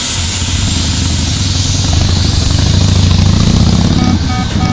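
A helicopter sets down in the Metal Gear Solid video game, its loud, continuous rotor roar and engine drone filling the whole stretch without a break before easing slightly at the very end.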